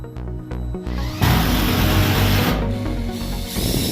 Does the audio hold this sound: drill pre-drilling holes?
yes